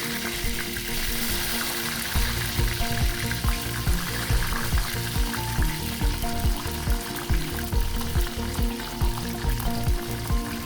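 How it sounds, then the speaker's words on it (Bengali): Salted, turmeric-coated brinjal pieces fry in white oil in a kadai, a dense continuous sizzle close up with rhythmic thuds and scrapes of stirring throughout. "তেল গরম হলে লবণ হলুদ মাখানো বেগুনের টুকরোগুলো হালকা লালচে করে"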